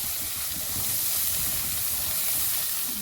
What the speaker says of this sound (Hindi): सारे मसाले भून रहे हैं, बड़ी अच्छी खुशबू आ रही है।